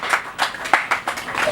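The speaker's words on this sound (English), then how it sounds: "Please, may you clap for them indeed." An audience at a hospital neonatal unit opening claps for the doctors, a short burst of close, fairly loud claps in an uneven rhythm.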